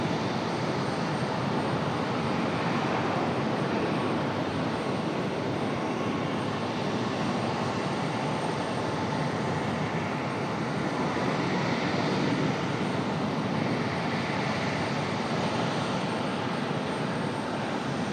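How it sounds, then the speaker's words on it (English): Frontier airliner moving on the ground or departing at an airport, a steady, loud broadband engine roar sustained throughout with no talk over it. "Frontier on the move for another Frontier departure."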